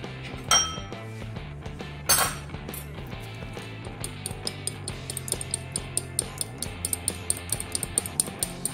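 Milk and oil are mixed into vanilla sponge cake batter in a bowl with a steady run of light clinking taps of utensil against the bowl, brisk and close, after a couple of louder knocks at the start.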